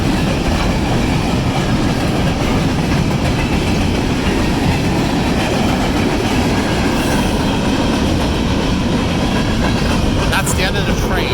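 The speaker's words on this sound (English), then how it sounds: "That's the end of the train." A Union Pacific manifest freight train rolls steadily past at close range, its loud continuous rumble and clatter of wheels filling the whole stretch at a park crossing.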